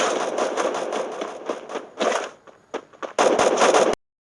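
Gunfire in a ranked shooter video game: rapid automatic bursts of sharp, loud shots in quick repeating strings, with short pauses between volleys.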